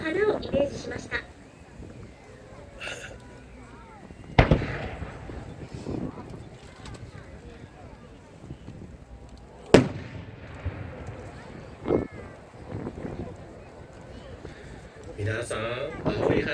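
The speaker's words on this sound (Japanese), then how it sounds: "皆さん、青い花火楽しんでいますか？" Blue fireworks at a seaside art fireworks show in Miyazaki burst in a few sharp booms spaced seconds apart, with fainter crackling between them and crowd murmur underneath.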